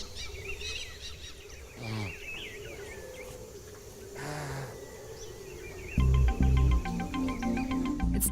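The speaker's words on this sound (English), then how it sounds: "the birds are just everywhere" Birds call and chirp in bursts in the Amazon jungle over a steady background hum, with some honking and rapid twittering notes near the end.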